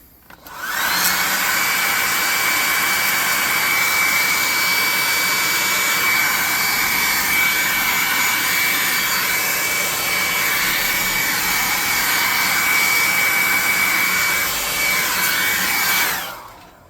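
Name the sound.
hot air gun heating a miniature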